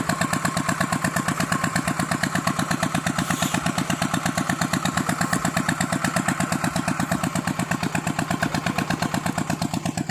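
An engine-driven water pump runs steadily with a fast, even putter that never changes, loud and close, with no talking over it.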